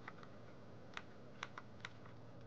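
Arrow keys on a computer keyboard are tapped with Alt held in music notation software, producing about five sharp, separate clicks spaced unevenly over a quiet room background.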